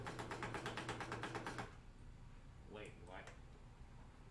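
An old sewing machine stitches with a rapid, rhythmic clickety-clack for about a second and a half, then stops. A voice speaks briefly afterward.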